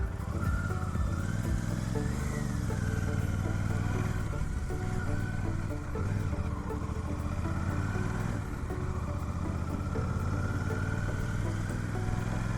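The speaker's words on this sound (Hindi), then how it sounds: "एग्जॉस्ट साउंड इसका बहुत अच्छा है। लगता है कि एक बड़ी सी बाइक आ रही है कोई।" A Royal Enfield Super Meteor 650 motorcycle is ridden with a steady, deep exhaust note, the engine holding a continuous mid-pitched drone with slight rises and falls in revs throughout.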